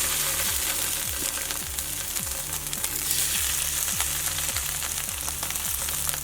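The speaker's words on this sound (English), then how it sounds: "we're going to put both pieces of salmon in, skin side down for 5 minutes." Salmon fillets sizzle skin side down in a piping-hot frying pan, a steady, dense crackle of frying that holds loud and continuous, with faint stirring or pan-movement noises underneath.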